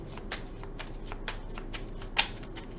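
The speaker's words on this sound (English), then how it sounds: "Let me just shuffle this real quick." Tarot cards being shuffled by hand, a steady run of soft riffling flicks and slaps up close, with one sharper snap near the end.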